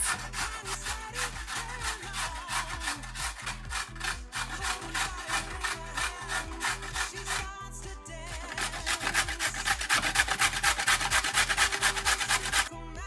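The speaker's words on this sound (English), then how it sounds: "You're going to want to grate some carrots." Carrots being grated by hand for gluten-free vegan muffins, a close, rhythmic scraping of steady strokes, roughly two per second, with a brief pause midway, then faster, louder strokes.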